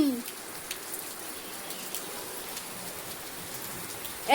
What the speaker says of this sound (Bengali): দেখো দেখো বৃষ্টিতে ভিজতেছে